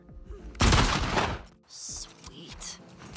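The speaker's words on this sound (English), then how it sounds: "a single gunshot would be heard." A single gunshot rings out in The Last of Us Part 2 while Ellie is outside fetching water from a nearby river: one loud, sharp blast with a long reverberant tail, followed by quieter game sounds.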